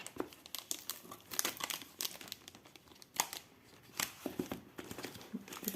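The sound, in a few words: unwrapping cardboard packaging of a bead parcel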